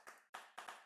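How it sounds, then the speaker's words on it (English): Hands clap three times in close succession during an online VR event, sharp isolated claps, fairly faint and close. "And this could be done by clapping."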